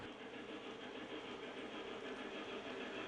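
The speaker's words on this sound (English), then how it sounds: "a speaker system that plays a background ambient type of soundtrack of engine sounds and whistles and horns and steam being released from the valves" An ambient model-railroad soundtrack played over a speaker system in a Lionel train display: a faint, continuous engine-like drone with no distinct whistles or horns.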